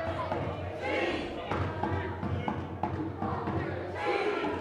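A wrestling crowd at a live event roars and cheers loudly and continuously, with thumps from the ring and voices shouting through the din.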